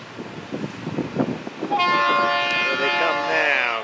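FEC920 local freight train rumbles toward the Fort Pierce yard, low rolling noise building before a loud, sustained multi-tone horn blast sounds close by.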